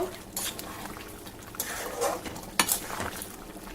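A spoon stirs chicken korma with cashew and onion paste in a pot, giving soft intermittent scraping and clinking against the metal, with a few sharper knocks amid a quiet kitchen background.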